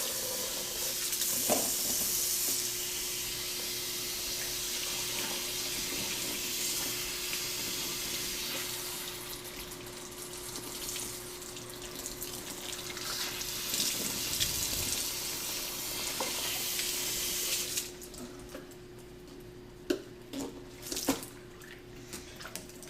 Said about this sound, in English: stick the nozzle on one end and just let cool, fresh water flow through it